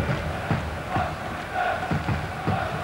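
A football stadium crowd of 27,000 at a UEFA Cup match between Vitesse and Liverpool sends up a broad, distant roar with a low chanting murmur that swells and dips under the commentary.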